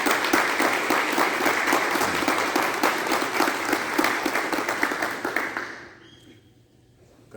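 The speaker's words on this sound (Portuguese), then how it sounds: "Salva de palmas a palavra de Deus." Congregation at a Mass for Saints Peter and Paul applauds the reading of the word of God, with steady, dense clapping for about six seconds that fades quickly into near silence.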